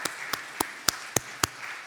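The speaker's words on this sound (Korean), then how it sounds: "우리 한번 주 안에서 격려의 박수 한번 드리겠습니다." A church congregation at a Sunday service claps in unison, six sharp, evenly timed claps in quick succession over a quiet room.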